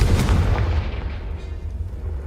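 A Confringo blast spell from Hogwarts Legacy, a deep booming explosion with a loud low rumble that bursts at the start and then slowly decays into a lingering roar.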